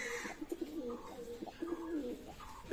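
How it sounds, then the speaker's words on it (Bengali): Soft, repeated coos of Maya pigeons of Oman bloodline, low and rounded, sounding close by in short rhythmic bursts with little else around. "ওমান ব্লাড লাইনের মায়া কবুতর, কোনো ক্রস ব্রিডের না"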